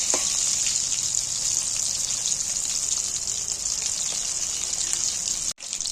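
Loud, steady sizzling hiss of fish frying in hot oil, continuous and unbroken until a brief cut near the end.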